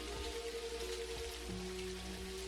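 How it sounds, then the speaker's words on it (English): Steady rain from the video game Dinkum, a dense, even hiss of drops falling on surfaces, with a low continuous hum and a faint tonal drone running underneath throughout. "we're gonna sleep outside in the rain today"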